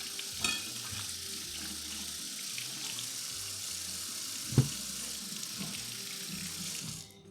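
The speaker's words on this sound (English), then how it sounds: "Gonna wash our cucumber." A cucumber washed under a running kitchen tap, a steady broadband hiss of flowing water with a brief knock partway through, continuing alone until it cuts off near the end.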